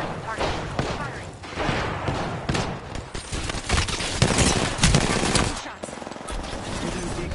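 Gunfire in a PS4 video game, rapid bursts and single shots crackling over each other in loud, irregular volleys, with voices speaking throughout.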